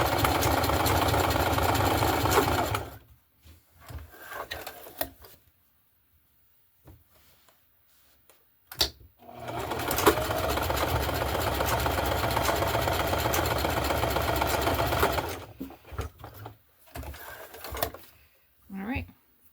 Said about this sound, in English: got a zigzag stitch on my machine